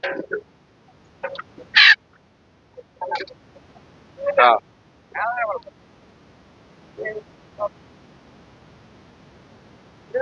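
Chickens at a busy rural duck and poultry market in Manikganj, Bangladesh, with several short squawks and clucks scattered among bursts of nearby talk and market bustle.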